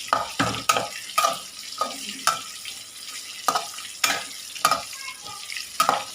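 Bitter gourd fries on high heat in a pan, with a steady sizzle under repeated clinks and scrapes of stirring at an uneven pace, close up.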